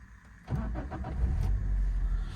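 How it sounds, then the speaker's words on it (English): A 2005 Daihatsu Terios 1.3 manual 4x4 compact SUV with about 100,000 miles cranks briefly and fires up, then settles into a steady, close idle with no talk. "I'll just start the engine up so you can see the startup sequence of it"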